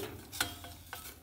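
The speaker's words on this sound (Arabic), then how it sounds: "ندير الزيت. بسم الله، ونخلي البصله حتى تنزل" Onion cooks in hot oil with a steady soft sizzle as a utensil clinks and stirs through the pan in a few quick strokes.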